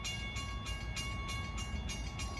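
LIRR DE30AC diesel locomotive 413, fitted with a K5 LLA horn, passes close by: a loud, steady horn chord sounds over a rumbling rail roar with regular rhythmic surges.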